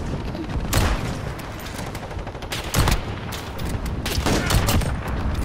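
Burst-fire FAMAS shots in an online shooter: loud, sharp clusters of rapid gunfire cracking in irregular bursts over a steady backdrop of distant battle noise.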